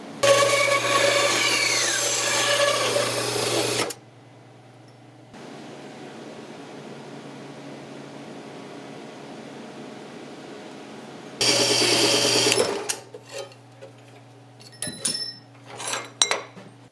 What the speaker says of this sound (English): Just going to trim this down a little bit on the bandsaw